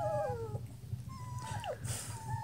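Three-week-old German Shepherd puppies whimper and yip in a series of thin, rising and falling cries close by, repeated over a soft low rumble, with no talk.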